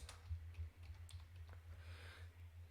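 Soft clicks of typing on a computer keyboard come in a quick irregular run, faint and close, over a steady low electrical hum.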